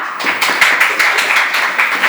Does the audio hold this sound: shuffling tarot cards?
no